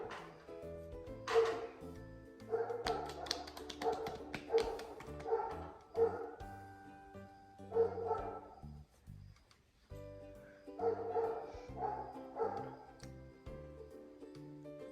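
A dog barks in a quick series of yaps and yelps, with short pauses between bursts, heard fairly quietly and with no talking.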